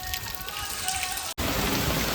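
Heavy rain pours steadily onto surfaces outdoors, a dense continuous wash with a brief dropout partway through, then resuming just as strong, wind mixed in.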